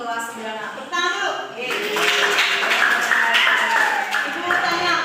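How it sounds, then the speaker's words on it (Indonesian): A school class of ninth graders claps hands together, a steady patter of overlapping claps filling the room. A voice talks over the clapping. "Tepuk tangan dulu."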